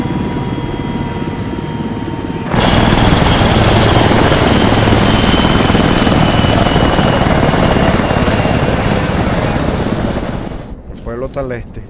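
A helicopter flies in the military video game Arma 3. Its loud, steady rotor and engine roar starts abruptly and holds close for most of the stretch, then thins out near the end.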